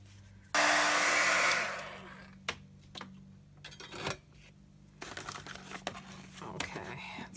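A heat gun blasts loudly for about a second over paint on vinyl, then tails off into soft crinkling and handling noises.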